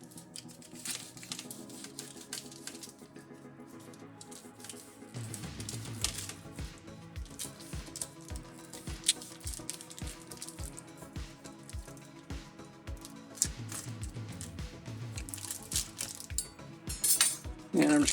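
A knife slices open the plastic wrapper around a raw sirloin tip roast, giving close, crinkly rustles and soft taps and squishes that run steadily throughout.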